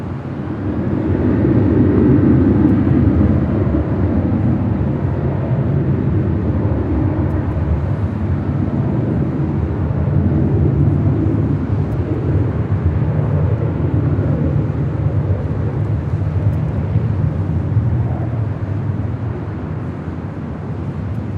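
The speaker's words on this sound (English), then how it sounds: "Viva Aerobus and an A321neo." Viva Aerobus Airbus A321neo airliner at Los Angeles International Airport, a steady, fairly loud jet engine roar sustained throughout with no talking.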